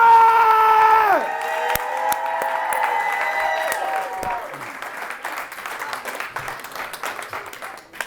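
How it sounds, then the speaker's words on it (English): A comedy show crowd in St. Louis breaks into applause and cheering for a comedian taking the stage. A sustained tonal sweep fades out early, then dense, steady clapping with whoops carries on throughout. "Give some round of applause for one of my favorite comedians, my partner, my homeboy, Travion"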